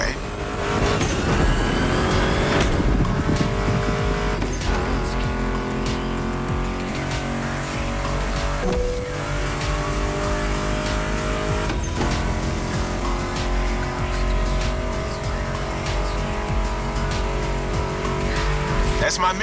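Muscle car engines roar in the racing video game The Crew Motorfest, with sustained loud revving and occasional tire squeal, all under background music.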